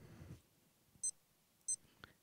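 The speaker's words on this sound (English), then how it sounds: "Does the beeping work?" Two short, high electronic beeps about half a second apart from a Casio Edifice EF-545 chronograph watch alarm, crisp and close in an otherwise quiet room, followed by a faint click.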